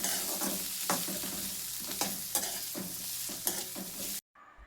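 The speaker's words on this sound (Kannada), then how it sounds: "ಸ್ವಲ್ಪ ಈರುಳ್ಳಿ ಬೆಳ್ಳುಳ್ಳಿ ಎಲ್ಲ ಫ್ರೈ ಮಾಡ್ಕೋತಾ ಇದ್ದೀನಿ" Onion and garlic frying in a pan, a steady close sizzle broken by repeated scraping stirs, ending abruptly.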